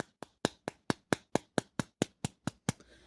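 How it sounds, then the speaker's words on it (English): Twelve sharp hand claps in a steady, even rhythm, close and loud, each snapping out cleanly before the next, ending with a brief rustle. "with the clap of my hands"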